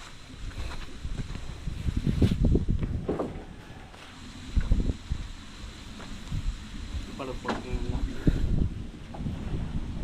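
Gusty wind buffets the microphone outdoors, a rumbling low roar rising and falling while people talk nearby.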